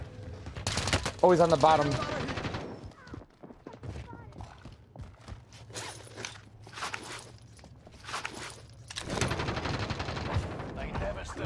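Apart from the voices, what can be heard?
AK-74u gunfire in video game Call of Duty Warzone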